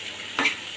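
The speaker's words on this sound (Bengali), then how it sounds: "বেগুনের সঙ্গে মশলাটা ভালো করে মেখে নাড়াচাড়া করে" Eggplant coated with spices gets a single quick stir in a hot pan, one short scraping swish over a soft background sizzle.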